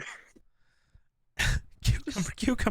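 A single sharp sneeze bursts out after a quiet stretch, then people talk and laugh close by.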